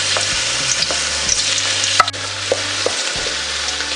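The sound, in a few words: garlic sautéing in hot oil in a pan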